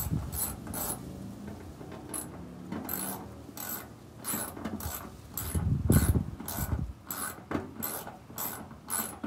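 Ratchet loosening bolts on a 1959 Chevy Impala fuel tank: repeated close clicking bursts of the pawl, in uneven strokes, with a heavier metallic knock midway.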